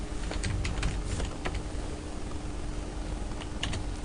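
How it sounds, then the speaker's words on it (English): Typing on a computer keyboard during accounts payable data entry: quick, uneven key clicks close to the microphone, with no talking. "Type in the invoice amount."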